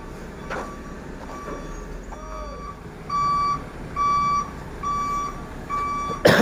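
A Volvo A40G articulated dump truck backs up, its reversing alarm sounding a row of loud, evenly spaced beeps over a low engine rumble, ending with a sharp noise at the close.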